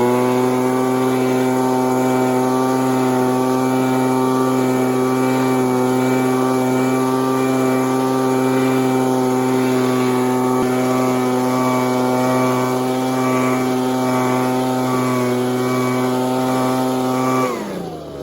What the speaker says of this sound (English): Now I'm gonna grab the leaf blower and blow out some of these leaves.